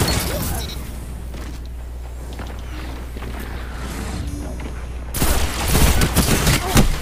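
Dense automatic gunfire from a weapon in the video game Destiny 2 rattles almost continuously, growing louder and harsher in the last couple of seconds, with faint game effects beneath.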